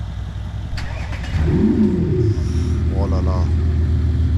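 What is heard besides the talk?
Mercedes CLS 63 AMG engine with full exhaust system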